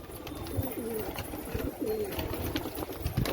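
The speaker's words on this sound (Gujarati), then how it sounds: "જેવા કબૂતર આવે છે સીધું" Pigeons coo nearby in soft, rolling low calls, several in a row over a light background hum.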